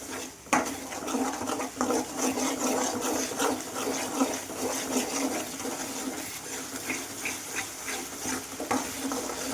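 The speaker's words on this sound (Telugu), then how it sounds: "అల్లం వెల్లుల్లి పేస్ట్ కూడా పచ్చి వాసన పోయేంత వరకు అయితే ఫ్రై చేసేసుకోవాలి" Ginger garlic paste frying in a pan for a spicy chicken gravy, a steady sizzle broken by repeated scraping and clinking of a spoon stirring against the metal, close and moderately loud.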